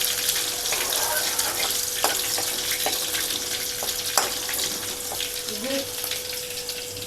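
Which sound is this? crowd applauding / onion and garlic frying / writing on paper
onion and garlic frying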